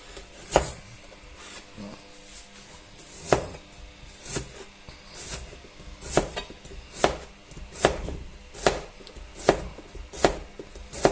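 A knife chops an onion sharply against a chopping board in a steady series of about a dozen crisp thuds, close and clear with no talking.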